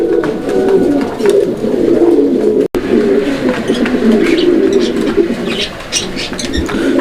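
A pair of pigeons coo close and loud in dense, throaty, overlapping rolls that continue without pause, with no voices.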